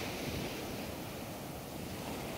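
Ocean surf rolling onto a Pacific beach at Maleque, Mexico, just after sunset, a steady broad wash of breaking waves with some wind rumble on the microphone, no voices.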